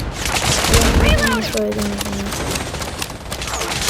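Rapid bursts of video game gunfire crackle close and loud, mixed with game effects while a player talks over the shots.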